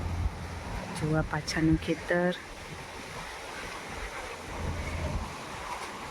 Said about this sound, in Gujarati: પણ વાયરો એવો ફૂંકાયો વાવાઝોડા જેવો એકદમ.